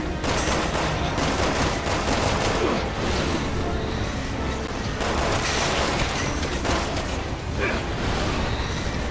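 Dense, continuous gunfire aimed at the Rasklapanje in Resident Evil 6: rapid loud shots and bursts layered with booms and mechanical clatter throughout, with a voice talking over the barrage.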